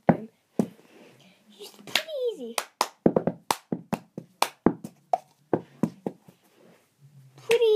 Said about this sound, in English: So clap, clap, tap, tap, clap, boom, boom